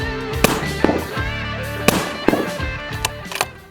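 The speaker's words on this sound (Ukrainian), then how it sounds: "Прицілюємось і стріляємо." Rifle shots ring out during precision shooting practice, several sharp loud cracks spaced irregularly over a few seconds, each followed by a brief ringing tail, with no talking.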